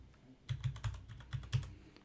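Fingers type on a computer keyboard, including presses of the tab key, with a quick run of soft, close clicks in two short bursts, fairly faint and with no talking.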